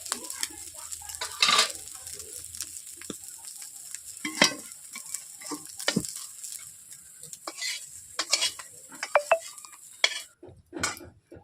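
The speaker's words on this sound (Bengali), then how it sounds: "গুগলি আমার ভাজা হয়ে গেছে এগুলোকে আমি কড়াই থেকে তুলে নিই" Sizzling and clattering from a wok of frying snails, with repeated scraping and stirring strokes of a utensil against metal, sharp clinks scattered throughout.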